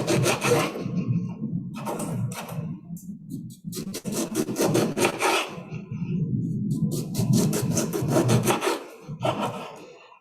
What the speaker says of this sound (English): So instead I'll use a serrated knife.